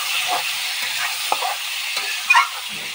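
Pointed gourd (potol) pieces, salted beforehand, fry lightly in hot oil with a steady, even sizzle. A few soft clinks and stirring bumps sound from the pan.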